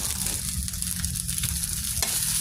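Sinangag garlic fried rice is stirred in a frying pan, giving a dense steady sizzle with scraping and rustling from the stirring, loud and close throughout.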